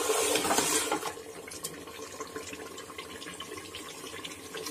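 Water is poured into a nahari cooking pot with browned meat and ghee, a loud gushing splash at first that settles into steady bubbling and sloshing, with no talk.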